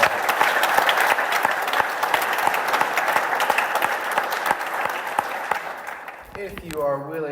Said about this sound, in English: let's give tonight's celebrants another round of applause